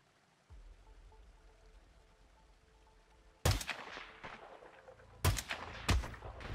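Sniper rifle shots in the video game Hitman 2: after a low rumble sets in, three sharp, loud reports ring out spaced apart, each with a brief echoing tail.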